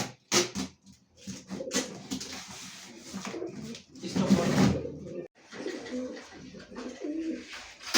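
Racing pigeons coo in low, repeated bursts up close, with rustling and fluttering sounds between the calls.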